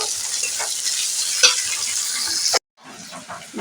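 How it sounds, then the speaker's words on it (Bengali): Onions sizzle in a hot pan as they are half fried, a steady close hiss with light stirring that cuts out briefly and then resumes. "পেঁয়াজটা আমি ভাজা করে নেবো প্রথম"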